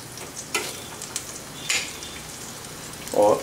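Chilli paneer tikka frying on a tava gives a steady close sizzle, broken by a few sharp spatula scrapes and a brief clink near the end.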